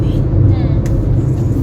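Inside a car cruising at 100 km/h on the Mumbai–Pune Expressway, a steady loud rumble of road and engine noise fills the cabin while someone talks over it.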